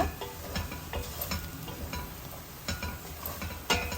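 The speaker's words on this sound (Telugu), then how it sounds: "ధనియాల పౌడర్ని కూడా ఈ నూనెలో వేయించుకోవాలండి" Coriander powder fries in hot oil for a country chicken curry, giving a steady close sizzle with scraping stir strokes and occasional clicks of a spoon against the pan, and no talking.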